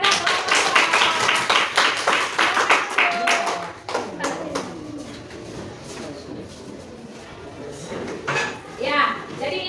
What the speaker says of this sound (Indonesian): jadi sekarang tepuk tangan kepada kelompok